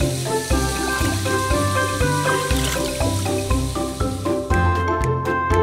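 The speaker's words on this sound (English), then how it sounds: "Pour the extra water out of the bowl." Water trickles and drips as the extra is poured out of a bowl of washed raspberries in a children's cartoon, close and wet over steady background music.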